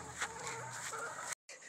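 A hen named Easter Egg, loose outside her pen, clucks faintly and continuously at close range before the sound cuts out briefly and resumes.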